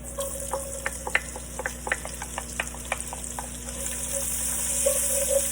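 Chopped onion sizzling in rendered bacon fat in a pot for low carb zuppa toscana soup, with steady frying hiss and scattered crackles and light stirring clinks.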